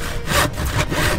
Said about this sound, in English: A wood saw